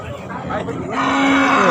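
Cattle at a livestock market giving a loud, close, drawn-out moo that rises and holds, with rough pen noise around it.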